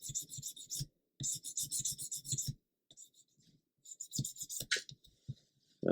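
Ejector pin marks being sanded off a 1/35 ICM light German fire truck plastic model kit chassis, a close, dry rasping in short bursts of rhythmic back-and-forth strokes, separated by brief pauses.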